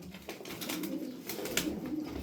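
Pigeons, among them a dark smoky female, coo softly and continuously nearby, a low rolling murmur with scattered fluttery rustles and no talking.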